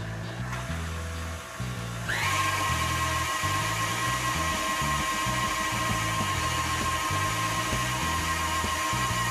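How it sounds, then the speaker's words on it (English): An electric sausage stuffer, the larger model, switches on after a brief quiet start and runs with a steady whirring motor hum and rhythmic low mechanical churning, close and continuous. "this bigger stuffer runs"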